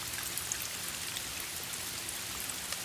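Steady rain falls on a wet outdoor spot near a small waterfall, a dense even patter of drops close by with no voices over it.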